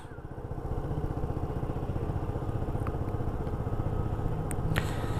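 A stock Yamaha Zuma scooter engine, fuel raised about 25% on a tuner, holds around 5,000 RPM with a steady, rapid, buzzing pulse at moderate volume, a few faint clicks near the end.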